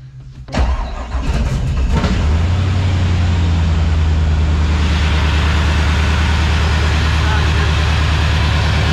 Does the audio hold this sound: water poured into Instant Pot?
no